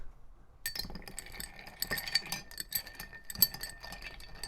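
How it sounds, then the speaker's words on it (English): Ice clinks and rattles against a glass as a cocktail with chocolate bitters is stirred, giving quiet, close, irregular tinkling taps. "And then we're going to stir."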